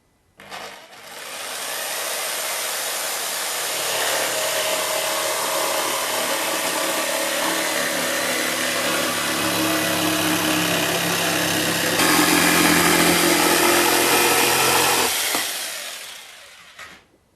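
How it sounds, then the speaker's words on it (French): A jigsaw whines loudly for about fifteen seconds as it cuts through a board, its buzz shifting slightly partway through before stopping abruptly. "Ne démarrez jamais votre scie sauteuse en appui avec la planche."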